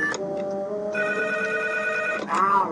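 A steady electronic telephone ring holds two pitched tones for about two seconds, with voices and background chatter around it.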